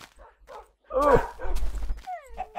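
Tamed wolf dog in the Minecraft video game barks and yips in a few sharp, close bursts, with a whimpering yelp rising near the end, in a hardcore mode survival game among creepers.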